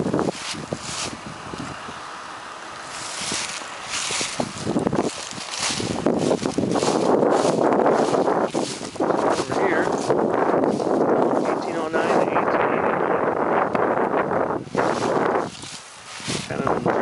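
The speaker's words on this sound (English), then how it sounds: "It's pretty windy out here today." Gusty wind buffets the microphone outdoors in an abandoned cemetery, rising and falling in loud rumbling bursts, with a person talking intermittently.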